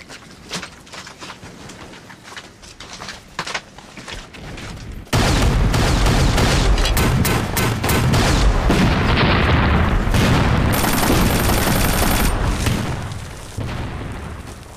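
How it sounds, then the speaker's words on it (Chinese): Heavy gunfire and artillery explosions rage in a wartime battle: scattered sharp shots and booms at first, then a sudden loud, sustained barrage of continuous firing and blasts that slowly eases near the end. "敌人的火力非常的凶猛"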